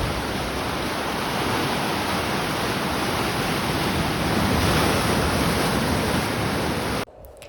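Aggressive waves on a large body of water produce a loud, continuous roaring wash with no clear breaks, ending abruptly near the close.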